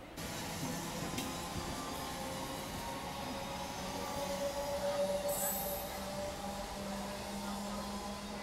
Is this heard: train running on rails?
yes